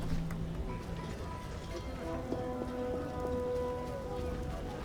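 Heavy rain pours down steadily in a dense hiss in the video game The Witcher, with faint tones and muffled background sounds beneath it.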